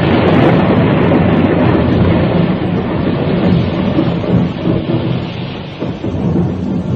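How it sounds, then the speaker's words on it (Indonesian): Thunder rumbles through a radio drama scene, a sustained, broad roll of noise with rain-like hiss that swells and eases slightly, with no voices over it. "Namun di kejauhan, petir masih sering meledak."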